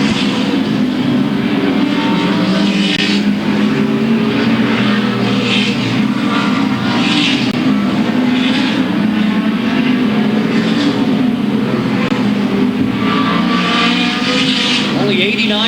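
Late model stock cars racing at Louisville Motor Speedway in the 1997 Bluegrass 300, a loud continuous engine roar filling the whole stretch, with a voice talking over the din.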